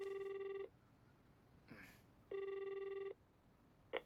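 Electronic telephone ringtone trilling in two steady bursts with a pause between them, fairly close and clear, followed by a brief click of the handset.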